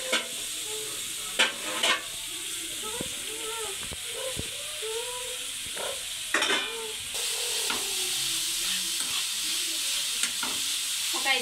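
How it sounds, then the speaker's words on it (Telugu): Onions and green chilies frying in oil for a chicken cashew curry, giving a continuous sizzle with occasional sharper bursts and scraping stirs of a spoon in the pan. "మళ్ళీ ఆయిల్ పోసుకుని ఉల్లిపాయలు అయితే వేయించుకోవాలి."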